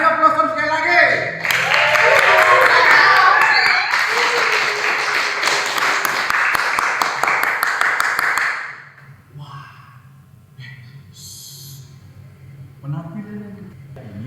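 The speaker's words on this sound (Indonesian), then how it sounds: "Kasih aplaus sekali lagi." Audience applause at a santri theater rehearsal, loud and sustained clapping with cheering for about eight seconds, then fading to quieter background chatter and scattered sounds.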